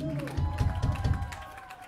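Audience applause and cheering from a crowd at a battle-of-the-bands concert in Bucharest, a burst of clapping rising and then gradually tapering off, fairly distant and loud.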